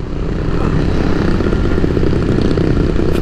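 A KTM 390 Duke motorcycle from 2018 rides along, its engine a loud, continuous buzzing drone mixed with wind noise, with no talk over it.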